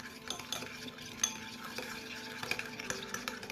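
A yeast mixture for Xhosa pot bread is stirred in a bowl, giving soft repeated scraping and clinking strokes, close and fairly quiet.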